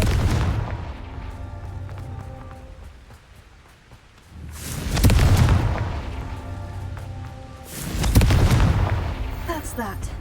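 Confringo fire spell explosions in Hogwarts Legacy, two heavy booming blasts a few seconds apart over a rumbling game soundscape, each swelling loud then fading.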